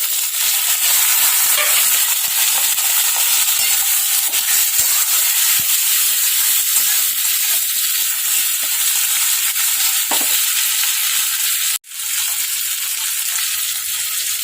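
Tomatoes frying in a pan, a loud continuous close sizzle and hiss that runs steadily throughout, with a brief dropout near the end and no talking.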